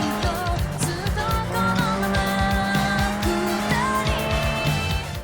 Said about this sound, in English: the entire game sounds surprisingly nice, with great engine sounds and very convincing tire screeching